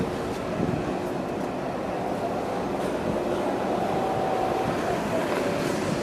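A steady low rumble of an F subway train rolling past at 179th Street, Jamaica, New York City, with a faint high squeal midway, continuous and moderately loud.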